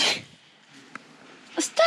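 A single sharp sneeze bursts out at the start inside a van during a shower build, followed by a quiet pause and a few short vocal sounds.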